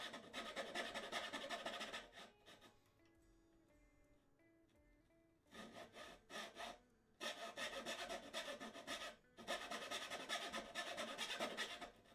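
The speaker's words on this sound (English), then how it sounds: "I'm going to file the stem." Repeated rasping strokes of a file on wood, steady back-and-forth bursts with a short quiet pause midway, close and fairly loud.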